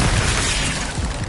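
The Incendio fire spell in Hogwarts Legacy erupts as a loud, continuous roaring burst of flame, dense and booming, filling a short moment with no voice over it.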